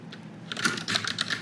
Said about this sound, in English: Sorry about this keyboard. I should get one that's not so clicky.